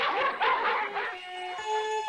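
Cartoon dogs barking, a cluster of loud, rapid yapping barks at first that give way to a thinner whining tone, with music under them.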